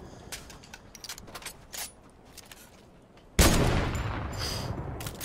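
Fortnite gunfire: scattered single shots early on, then a loud, close burst of rapid firing that keeps going to the end.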